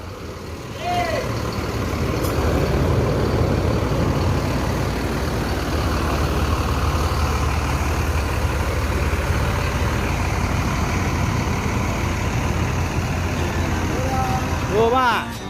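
A KMS high-deck bus with a Mercedes engine idling, a continuous low diesel rumble close by, with faint horn-like tones near the start and end and voices in the background.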